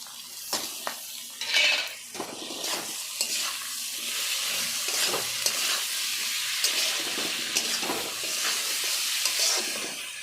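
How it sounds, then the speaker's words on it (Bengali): Garlic paste being stirred into cabbage and fish head curry frying in a pan: steady sizzling with repeated scraping and clinking of a spoon against the pot, close and continuous, without speech. "এবার দিলাম তোমার রসুন বাটা রসুন বাটাটা দিয়ে দিলাম"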